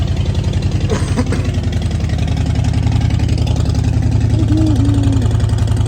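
A Harley-Davidson motorcycle engine idles loudly and close by just after starting, with a rapid, uneven low-pitched throb that holds steady throughout.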